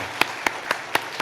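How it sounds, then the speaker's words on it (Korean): Congregation clapping in rhythm during a Sunday church worship service, five sharp evenly spaced claps close by, with no talk over them. "영광의 박수로 우리 하나님을 찬양하도록 하겠습니다"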